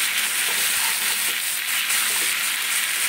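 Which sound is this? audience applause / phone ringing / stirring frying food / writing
stirring frying food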